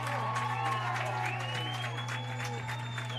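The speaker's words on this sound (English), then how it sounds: "A little bit of a sarcastic cheer, I think, from the Bulldog faithful" A football crowd of Bulldog fans gives a sarcastic cheer and scattered applause after a penalty, a steady wash of distant clapping and voices over a constant low hum.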